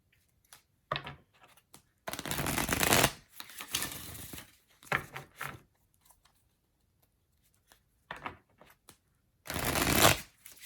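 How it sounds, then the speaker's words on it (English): Tarot cards are shuffled in several brisk bursts, close and crisp, the longer riffles separated by short quiet pauses and softer card handling, with no voices. "I'm going to pull a guidance card for you"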